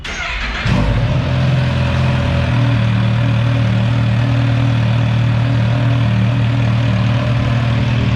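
A Kawasaki H2 motorcycle engine fires up and then idles steadily and loudly close by, a continuous throbbing rumble with no voices.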